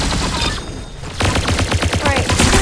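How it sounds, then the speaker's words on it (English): Rapid automatic gunfire in the video game Arsenal, a dense burst of repeated shots close and loud, with a brief lull before the firing resumes. "He's shooting at me."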